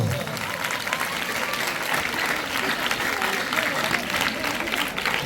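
An audience at a religious gathering breaks into loud, dense clapping that holds at a steady level for several seconds, close and full.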